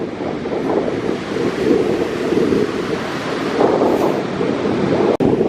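Ocean surf rolls in on a beach as the tide comes in, a continuous loud wash of breaking waves mixed with gusting wind buffeting the microphone.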